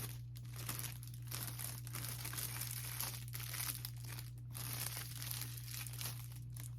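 A cake pop is slipped down into a crinkly plastic treat bag, giving close, continuous crinkling and rustling of thin plastic with a low steady hum behind it.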